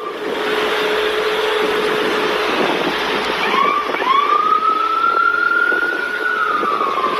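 An ambulance siren wails at the scene of a crash in Las Vegas near Rainbow and Sahara, a long rising and steady tone heard moderately loud over continuous traffic rumble.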